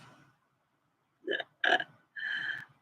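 Several short burps in a row, the last one long and drawn out, loud and close with no talking.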